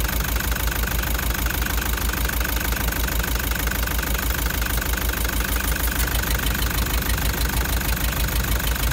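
A loud engine with a cracked piston runs steadily throughout, with a rough, rapid knocking chatter and a harsh hissing rush of blow-by layered over the idle.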